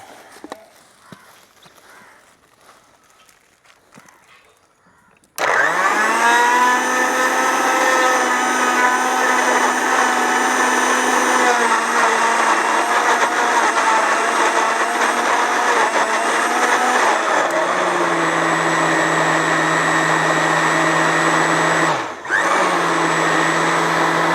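A mixer grinder blends Parle-G biscuits with milk into a shake, starting abruptly after a quiet moment and running as a loud, steady whir that shifts pitch partway through and briefly dips near the end.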